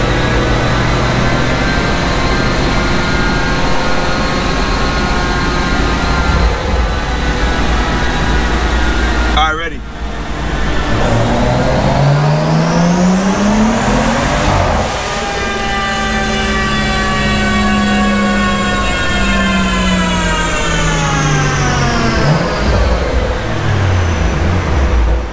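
A BMW N55 big-turbo engine on a dyno, tuned to 21 psi, drones loudly and climbs in pitch through a sustained pull, with a steady rising whine throughout.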